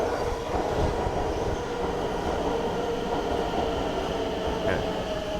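A train arriving at a station in Stockholm rumbles steadily nearby, with a continuous low roar of wheels on track and a faint squeal partway through; no talking.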